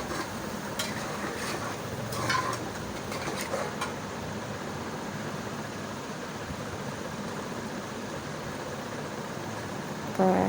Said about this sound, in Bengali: একটু নাড়াচাড়া করে একটু বাদামি কালার করবো